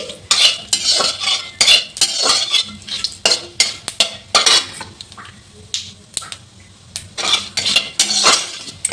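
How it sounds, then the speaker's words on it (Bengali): Dried red chillies, bay leaves, fennel, nigella and cumin tempered in hot oil in a pan for a cauliflower and lentil dish, heard as close, irregular metallic clinks and scrapes of a spoon against the pan with a faint crackle underneath. "আমি এটাতে দুটো শুকনো লঙ্কা, দুটো তেজপাতা, একটু মৌরি, একটু কালো জিরা, একটু জিরা, এই আমি ফোড়নে দিলাম"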